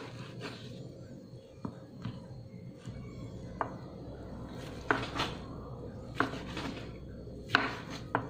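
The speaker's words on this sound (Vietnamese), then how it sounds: "Đậu hũ thì mình sẽ xắt thành miếng vừa ăn nha." A knife chops tofu into bite-sized pieces on a cutting board: a series of sharp, separate taps at irregular intervals, close and clear over a quiet kitchen background.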